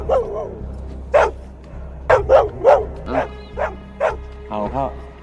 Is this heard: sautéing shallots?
no